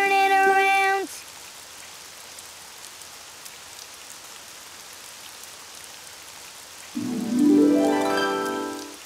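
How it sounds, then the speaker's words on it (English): Steady, soft rainfall patters continuously, with a brief tonal sound at the start and another rising near the end. "Oh, it's raining outside."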